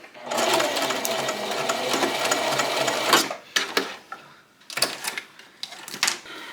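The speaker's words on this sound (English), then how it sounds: "put the foot back down and sew it perfectly straight" A sewing machine runs steadily while stitching a zipper seam into fabric, a fast even mechanical whir for about three seconds, then short stop-start bursts of stitching with brief pauses between.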